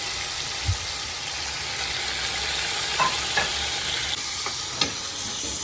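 Ginger garlic paste fries in a pot with chicken, a steady close sizzle with a few soft knocks and stirring taps on top, and nobody talking.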